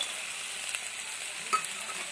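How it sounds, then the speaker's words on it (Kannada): Sprouted moth beans hitting hot oil give a soft, steady sizzle with a faint stirring scrape, quiet and continuous throughout, without any talk. "ಇವಾಗ ಮುಕ್ನಿ ಕಾಳು ಇಟ್ಕೊಂಡಿದ್ದೇವಲ್ರಿ, ಅವನ್ನ ಹಾಕೊಳ್ಳೋಣ್ರಿ."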